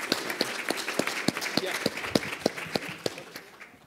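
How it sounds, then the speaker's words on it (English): Applause for guest panelists at a marine citizen science event, a soft, distant patter of clapping with a few sharper claps standing out near the front, under faint background murmur. "give a big warm round of applause for our guest panels"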